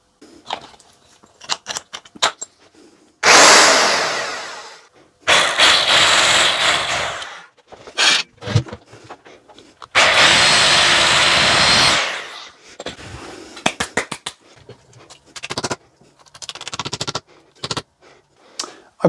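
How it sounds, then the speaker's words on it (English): A power drill whines while drilling holes into a wall in several bursts, two long runs and shorter stabs, with clattering handling noises between them. "Let's drill a couple of holes in the wall."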